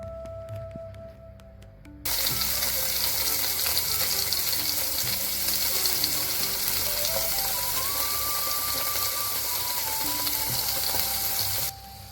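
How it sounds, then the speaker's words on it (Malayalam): Paneer cubes frying in hot butter in a pan: a steady, loud sizzle starts abruptly after a quiet opening, holds evenly for about ten seconds, then drops off near the end. Nobody speaks. "ഇനി നമുക്കതൊന്ന് ചേർത്ത് കൊടുത്തിട്ട് ഒന്ന് ഫ്രൈ ചെയ്തെടുക്കാം"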